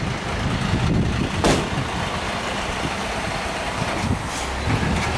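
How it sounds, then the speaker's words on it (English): A rubbish truck idles nearby on a residential street, a rough, even engine drone under broadband street noise, broken by a couple of sharp clanks and hisses, with no talking. "rubbish truck behind me, so we'll just say hello to the rubbish truck"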